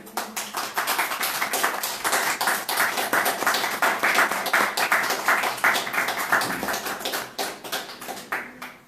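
Church congregation clapping for Jesus Christ, sustained crisp handclaps from a gathered crowd, loud and continuous for around nine seconds with a slight fade near the end.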